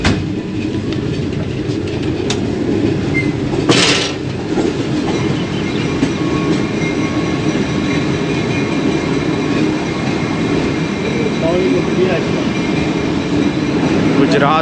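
The Tezgam passenger train rolls steadily into a station platform in Pakistan with a continuous low rumble and rhythmic clickety-clack of wheels on rails. A brief sharp burst sounds near the start.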